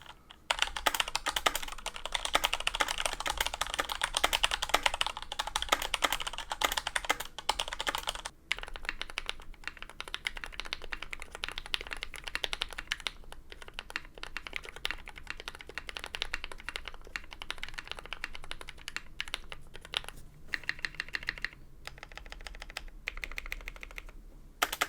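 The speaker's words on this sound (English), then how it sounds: "I want to give a quick comparison between a pre-built Corsair keyboard and the keyboard that we just built today" Someone types steadily on a custom-built mechanical computer keyboard for about 25 seconds. The keys clatter densely and quickly at first, then settle into lighter, uneven keystrokes.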